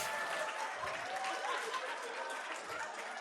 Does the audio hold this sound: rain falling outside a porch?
no